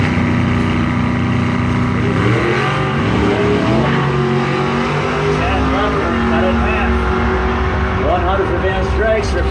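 A dragster and a 1984 Monte Carlo SS race down a drag strip in a bracket race, with loud, continuous engine roar and shifting revs throughout, as an announcer speaks over the noise.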